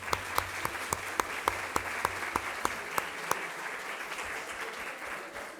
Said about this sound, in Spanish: un aplauso, Portugal